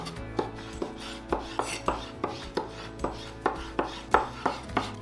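Knife dicing shrimp on a cutting board, a steady run of about a dozen crisp chops at an even rhythm, close and clear with no talking.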